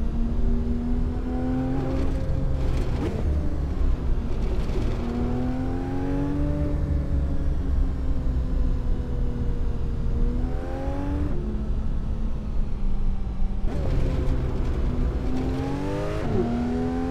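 A car cruises along Mulholland Drive in the Assetto Corsa racing game, its engine rising and falling through repeated revs and gear changes, steady and close with no talking.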